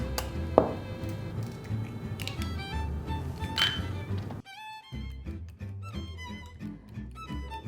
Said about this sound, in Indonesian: telurnya kita pecahin dulu